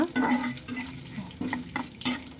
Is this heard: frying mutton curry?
yes